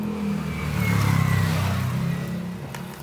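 Washing machine motor with a worn, damaged bushing, giving a steady low hum that swells slightly in the middle and then holds, close and fairly loud with no talking.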